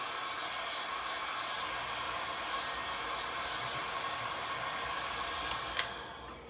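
Heat tool blowing steadily on a gnome cutout being fixed onto a wooden sign board; a constant broad airy whoosh runs the whole time, close and even, with a brief click near the end.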